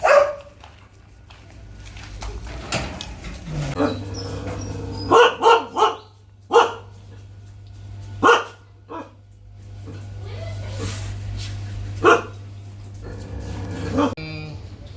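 A dog barks several times in short separate bursts, loud and close, alongside a steady low hum and some background talk.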